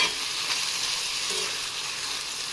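Curd (yogurt) fries in a small cast-iron kadai for tempering, giving a steady, close hiss and sizzle with faint stirring throughout.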